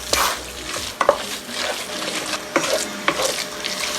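Washed squid tossed into a hot pan on high flame for a dry squid roast, giving a steady sizzle with sharp scraping stirs of a spatula against the pan every second or so.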